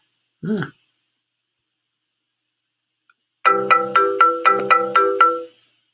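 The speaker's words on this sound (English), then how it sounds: "So this is currently a xylophone sound" A short synthetic xylophone melody of about six bright, evenly spaced notes rings out after a brief faint blip and a pause.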